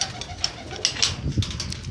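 Pet pigeons in a rooftop loft give low, soft coos with a few brief wing flaps, close and moderately loud against a rustling background.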